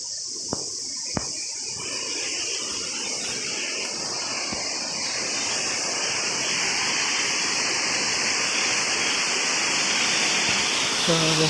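Water pours down from above near a temple, a steady broadband rush that builds slightly louder over the clip, with a couple of sharp clicks early on and faint voices underneath.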